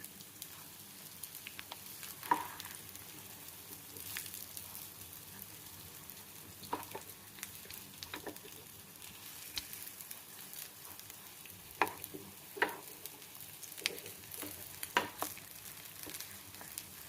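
Potato cutlets frying in a pan, a faint steady sizzle with occasional soft pops and crackles spread unevenly across the stretch, no one talking.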